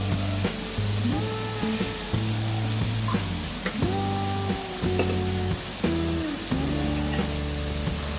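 Oil sizzles and crackles in a pan while cooked rice is readied for carrot rice, a steady frying hiss running throughout with clinking stirs and scrapes layered on top, close and fairly loud.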